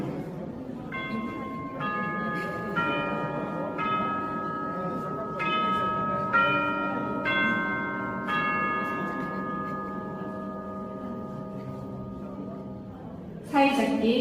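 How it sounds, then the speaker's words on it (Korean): Wedding bells of love ring out to open a Korean wedding ceremony in Suncheon/Yeosu: a series of struck bell tones with long ringing sustain over soft room murmur, closing with a brief louder burst. "이제 사랑의 종소리를 시작으로"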